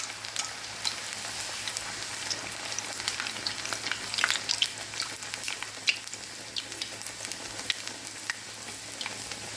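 Ari pathiri fries in oil in a pan, giving a soft, steady sizzle with scattered faint pops and crackles throughout. It stays quiet and close, with no voices.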